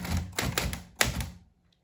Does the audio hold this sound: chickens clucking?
no